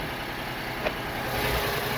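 A Vauxhall Corsa C petrol engine idling, a steady low hum that holds even for the whole stretch with no revving and no voices.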